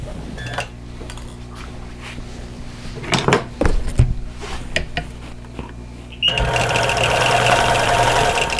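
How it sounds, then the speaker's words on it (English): A sewing machine stitches in the ditch on a quilted cactus basket wall hanging. Handling clatter and knocks come first, then a sustained, fairly loud motor hum with rapid needle chatter kicks in and continues to the end. "Now I'm going to stitch in the ditch."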